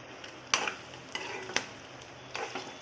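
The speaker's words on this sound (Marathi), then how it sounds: "त्याच्यामध्ये तेल आणि तुपाचा वापर केला आहे. छान तांबूस कलर येईपर्यंत फ्राय करून घेऊ पनीर." Paneer fries in oil and ghee with a soft, steady sizzle, punctuated by a few sharp clinks and scrapes of a utensil against the pan.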